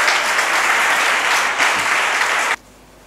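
Church congregation applauding, a dense steady wash of many hands clapping that holds loud for over two seconds and then cuts off abruptly into quiet.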